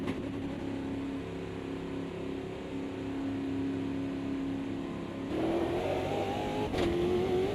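A race car engine in the Automobilista 2 sim racing game drones at steady revs while tyres are warmed, then jumps in pitch and loudness as the throttle opens, revving higher near the end.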